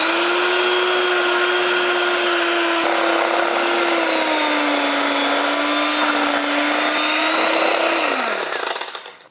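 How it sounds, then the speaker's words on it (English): A hand mixer whirs steadily and loudly for about eight seconds while whipping cream cheese icing of cream cheese, butter, powdered sugar and vanilla, then winds down and stops at the end. "Then use a hand mixer to make it nice and fluffy."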